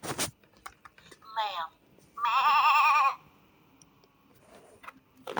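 Two bleats from a lamb, a baby sheep, on a farm: a short wavering call followed by a longer, louder quavering bleat, fairly close and standing alone, with quiet gaps around them.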